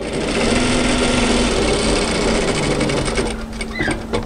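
A sewing machine runs steadily up close while stitching an apron, giving a continuous fast mechanical whirr and rattle that slows and stops near the end.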